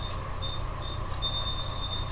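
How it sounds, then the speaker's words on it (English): An alarm beeps in short high-pitched tones, intermittent and then repeating faster toward the end, over a steady hum of background noise. "Wait, that's the alarm."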